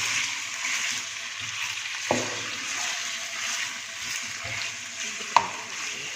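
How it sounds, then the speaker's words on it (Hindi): Chicken frying in a karahi gives a continuous bright sizzle, close and fairly loud, broken by two sharp metallic clinks of a spoon against the pan. "अब मैं इसमें डालूँगी चिकन जो मैंने लिया था, इसको मैं फ्राई करूँगी।"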